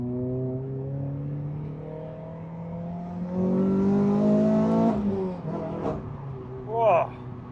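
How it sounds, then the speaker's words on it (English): A Renault Clio 200 with a Scorpion catback exhaust and full primary and secondary decat revs hard, its note climbing loudly and close with a sharp crackle near the end, while people talk over it. "So obviously we got the Scorpion catback exhaust with the full decat as well"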